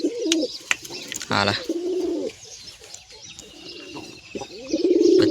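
White pigeons and their chicks coo in low, rolling bursts that repeat several times, close and fairly loud, with a brief voice and a few sharp clicks between them.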